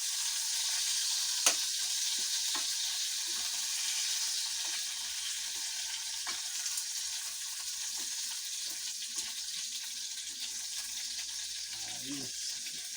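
Longganisa sausage fries in a pan with a steady, fairly soft hiss of sizzling oil and occasional pops and clinks, and a brief voice near the end.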